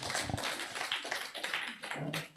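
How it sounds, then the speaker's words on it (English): Dense, steady applause from an audience at a medtech hackathon, clapping for the competing teams, filling the whole stretch with continuous rapid hand claps. "Let's give a very big hand clap to"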